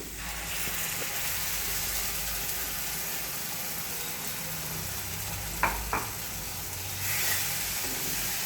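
A spinach and potato paste for palak patal bhaji is stirred in a hot pan with a steady, close sizzling hiss, broken by two brief scraping knocks of the spoon near the end.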